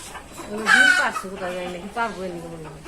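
Chickens cluck and call loudly up close, a drawn-out squawk followed by a few shorter clucks.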